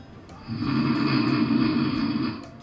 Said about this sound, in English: Snoring isn't just annoying and embarrassing, it's also potentially deadly.